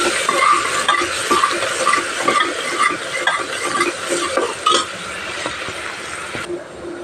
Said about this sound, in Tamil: இப்போ இஞ்சி பூண்டு விழுது சேர்த்திக்கலாம்.